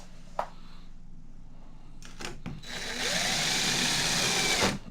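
Power drill driving a screw while a door knob is installed, short bursts and then a sustained whirring run that climbs in pitch before cutting off abruptly.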